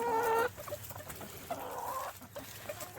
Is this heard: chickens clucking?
yes